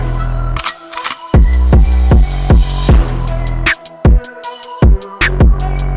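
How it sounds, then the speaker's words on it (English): A hip-hop outro beat plays back with punchy, evenly spaced drum hits and a sampled melodic loop, loud and steady with short gaps between phrases and no voices. "It sounds like an outro beat. I'll play it for you now."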